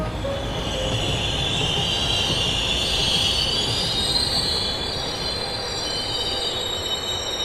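A train rumbles steadily along the rails with a continuous high metallic squeal of wheels, loud and close throughout, on the line from Ranaghat to Dhubulia.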